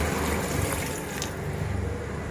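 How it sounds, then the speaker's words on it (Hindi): Water is poured into a cooking pot holding goat trotters, with onion and garlic, giving a steady, fairly close gushing and splashing that runs for a couple of seconds without talk. "और मैं इसमें ना ढेर सारा हम पानी डालेंगे।"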